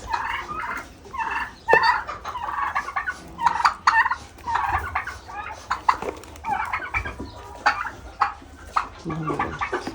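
Domestic fowl, turkeys among them, gobble and cluck repeatedly at breakfast, close and lively bursts in an irregular rhythm, with no talking.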